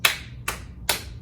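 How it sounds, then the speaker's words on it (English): Three crisp hand claps land about half a second apart during a children's storytime activity. They are fairly close and stand alone, with no talking. "Can you clap your hands?"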